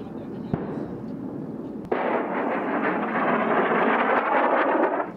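Weapon fire from an AH-64 Apache attack helicopter, a deep rumbling roar with a sharp crack partway through, then a sustained loud blast-like rush that fades at the end.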